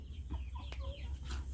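Free-range village chickens cluck softly in short, scattered calls close by over a low steady background hum, with no talking.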